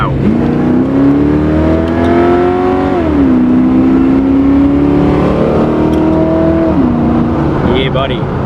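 A Chevrolet JAG car fitted with 1.6 offset rockers, with a worn motor and heads, accelerates hard from inside the cabin, its loud engine drone climbing through two gear changes before easing off, with voices heard faintly at the end.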